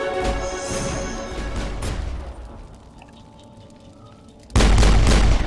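Gunfire and heavy booms in the video game Mass Effect, a run of shots that fades to a quieter lull before a sudden loud blast near the end.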